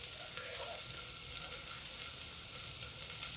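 Cumin seeds, onion and asafoetida fry in a pan, giving a steady close-up sizzle and crackle throughout with no talking.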